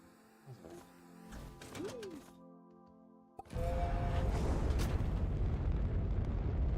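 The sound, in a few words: catalyst plant explosion in the video game Astroneer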